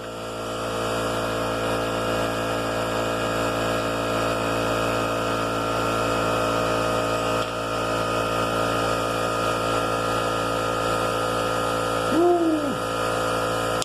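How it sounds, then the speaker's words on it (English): An air compressor runs in a workshop during a hay baler repair, giving off a steady, loud, droning hum with a constant tone for the whole stretch. A short voice-like sound rises near the end. "Sorry about the compressor"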